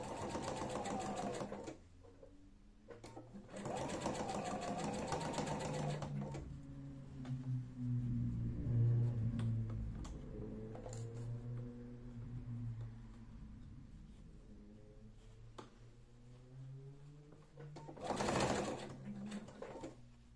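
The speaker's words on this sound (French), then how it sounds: "Et là, on coud." A domestic sewing machine stitches a zip into trousers, its motor whirring in steady bursts with pauses between runs, close and clear, with a faint higher burst near the end.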